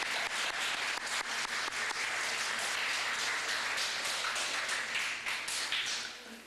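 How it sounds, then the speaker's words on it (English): Steady, dense applause from an audience at a Cub Scout Pack 404 Blue and Gold Banquet in Ste. Genevieve, Missouri, sustained for several seconds before tapering off. "Let's give him a round of applause."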